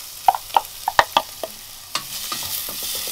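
Vegetables drop into heated olive oil and are stirred in a pan inside a camper van, a few sharp clinks of a utensil against the pan followed by a soft, steady sizzle up close.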